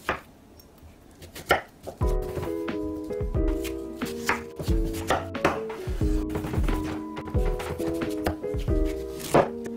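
A knife chops a watermelon into pieces on a cutting board, a series of crisp, close thunks that land one after another at a brisk, uneven pace with faint crunching in between.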